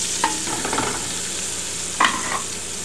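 Cremini and button mushrooms sizzle in melted Earth Balance vegan butter while prepping a green bean casserole: a steady close pan hiss, broken by two short bursts of stirring.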